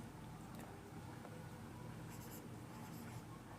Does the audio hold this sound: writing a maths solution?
yes